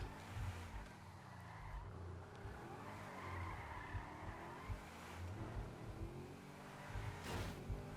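A car drifts in GTA 5, its tires skidding and squealing under a steady engine drone, with the screech rising and sliding continuously for several seconds at moderate volume, no talk over it.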